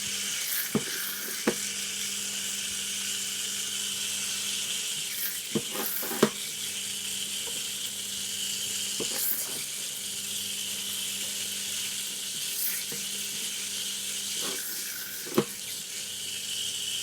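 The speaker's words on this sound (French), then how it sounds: "vous voyez que le beurre commence à se colorer un peu" Butter sizzling and beginning to brown in a pan, a steady close hiss of frying that continues throughout with a few soft clicks and taps over it, no talk.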